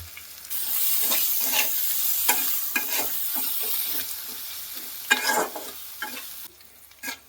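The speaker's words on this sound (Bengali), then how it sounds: "লাল হয়ে ভাজা হয়ে গেছে।" Fish heads frying with salt in a hot pan give a continuous close sizzle. Repeated scraping stirs of a spatula break through it at intervals, and the sound eases off near the end.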